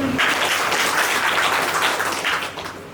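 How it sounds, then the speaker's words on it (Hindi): Clapping from an audience at an RCM seminar in Pawai sounds as a short, steady burst of many hands, fairly close and full, tapering slightly at the end. "एक बात ताली बजा दो"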